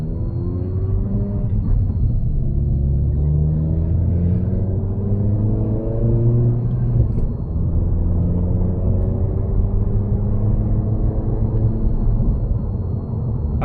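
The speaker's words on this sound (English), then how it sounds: "what the pops and bangs sounds like from outside the car." Tuned Toyota Corolla with Rev 9 coilovers, heard from outside as a steady low exhaust rumble with rising and falling engine tones; no distinct pops or bangs stand out, and no one speaks.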